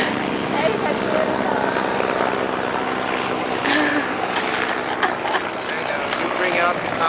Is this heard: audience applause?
no